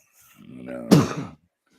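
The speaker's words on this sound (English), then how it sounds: "Ah, excuse me. I had to sneeze." A single person sneezes close to the microphone, a rising breathy intake followed by one sharp, loud burst that quickly cuts off.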